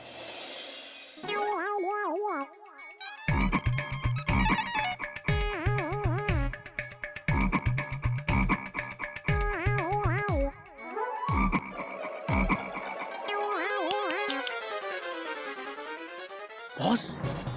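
Cartoonish croaking rises and falls in quick repeated bursts, with warbling, pitch-bending calls that sound like frogs. The croaks are loud and close, with music-like tones between them.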